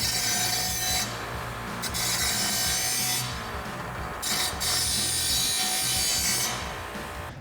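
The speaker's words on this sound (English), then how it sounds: "we can come over to our grinder to deburr our edges." Bench grinder deburring the rough cut edge of a steel exhaust front pipe for a RAM 1500 dual exhaust install, giving a steady, close, continuous abrasive rubbing and grinding with brief dips in intensity and no talk.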